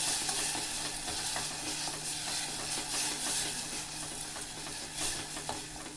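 Fenugreek chutney heats in oil for tempering, giving a steady, close sizzle with soft crackles and occasional stirring scrapes throughout, no voices.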